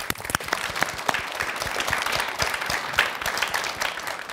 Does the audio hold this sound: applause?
yes